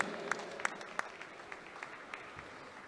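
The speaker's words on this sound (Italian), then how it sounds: "Voglio vedere sulle mani un forte applauso a tutti i collaboratori" An audience at the Melody on Ice 2018 ice show at the Stadio del Ghiaccio in Piancavallo claps for the collaborators, a few distinct sharp claps spreading into faint, sparse applause that fades out.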